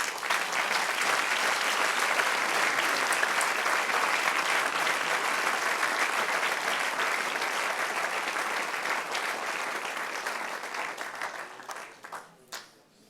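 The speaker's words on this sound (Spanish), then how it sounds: "Dar un aplauso, Señor" A church congregation bursts into sustained, dense applause during a Spanish-language evening sermon, holding steady for about ten seconds before thinning out and trailing off into scattered claps.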